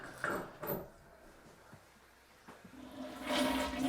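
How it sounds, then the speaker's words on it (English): A toilet flushes with a loud rush of water that swells, fades, then builds again, close and with no talk, while a building's plumbing is drained of water. "Flush these toilets, get most of the water out of them."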